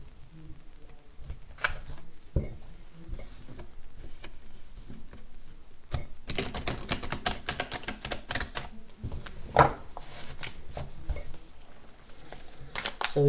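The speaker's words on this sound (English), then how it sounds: "Just give them a bit of a shuffle here" A Rider-Waite tarot deck being shuffled by hand, with quiet irregular card flicks and soft taps, then a denser burst of riffling clicks partway through, close and fairly faint.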